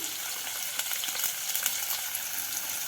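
Onions and curry leaves frying in a hot tempering, a soft steady sizzle with light crackles and occasional stirring scrapes, faint and without talk.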